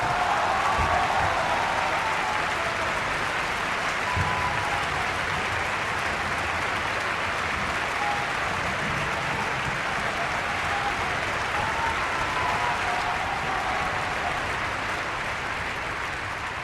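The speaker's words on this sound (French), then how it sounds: "Ce silence est brisé à 2 minutes 38 quand Jack arrive sous des applaudissements." Applause greets Jack's arrival in David Lynch's Rabbits, a continuous, fairly loud wash of crowd clapping that stays steady for the full length with only slight fading toward the end.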